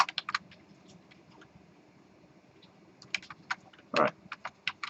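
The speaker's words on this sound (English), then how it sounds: "some people are still typing" Computer keyboards clacking in a lecture room, scattered bursts of quick keystrokes with a pause in the middle, then a dense flurry of clicks near the end, close and fairly crisp.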